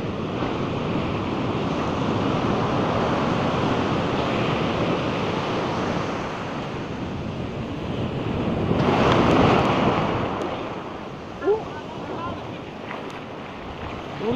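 Ocean surf washes steadily onto Talolora Beach in Palapag, Northern Samar, a continuous broadband roar with wind buffeting the microphone and a swell building near the end.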